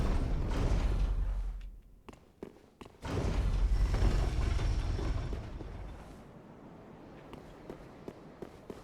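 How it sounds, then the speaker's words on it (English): A squeaky door creaks in the video game Dark Souls III: a long, loud grinding creak broken by sharp mechanical knocks, then fading into quieter clicks. "I guess squeaky door."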